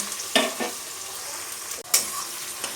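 Chopped onions hit hot oil with cardamom and cinnamon for a Bengali-style mutton curry, a steady close sizzle broken by a couple of sharp stirring scrapes.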